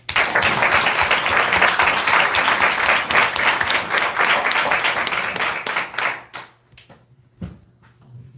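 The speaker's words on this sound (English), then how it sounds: "please give a round of applause to Ms. Kim Poole" Audience applause at a Howard University speaking event: dense, sustained clapping from a large crowd for about six seconds, then thinning out and dying away into scattered claps.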